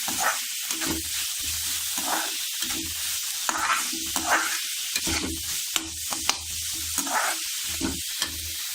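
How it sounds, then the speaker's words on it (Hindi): Vegetables including peas and beans fry in a pan for a veg frankie roll, with a steady close sizzle and repeated scraping stirs throughout. "अब हम इन्हें अच्छे से फ्राई कर लेते हैं ताकि इनका कच्चापन निकल जाए।"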